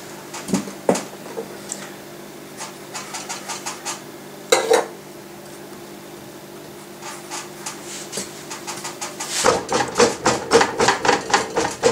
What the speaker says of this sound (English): Using the narrow edge of the mallet to beat it down.